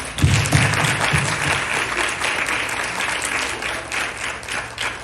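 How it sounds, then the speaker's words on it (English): An audience applauds panelists at a Hispanic Leaders' Network heritage event: steady, dense clapping from a crowd that carries evenly through the whole stretch, with a low hum underneath. "Let's give them another round of applause"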